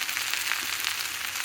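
Mustard seeds, cumin, urad dal and curry leaves tempering in hot oil give a steady, close, even sizzle and crackle throughout, with no talking.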